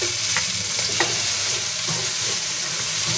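Chopped onion sautés in a pan with garlic already frying, a continuous close sizzle broken by a few spatula scrapes and stirring taps, and no talking.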